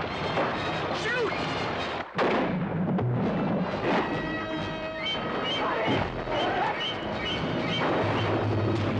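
Heavy gunfire-like blasts from the 1975 Jaws trailer crash through a dense bed of music, effects and voices, one sharp loud report standing out near the start.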